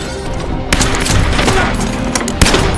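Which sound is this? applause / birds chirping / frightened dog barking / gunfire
gunfire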